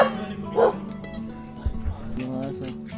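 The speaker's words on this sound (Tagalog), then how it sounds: "Sa amin, Malaking aso." A big dog barks a couple of times nearby on a farm in the Philippines amid low background noise and voices, the barks short and fairly deep.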